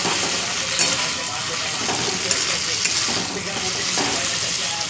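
Chili chicken gravy simmering in a pan with pre-fried chicken pakoras, giving a steady, close, continuous sizzle and bubbling hiss with faint soft clinks, with no talking.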